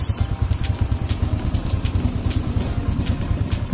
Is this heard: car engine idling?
yes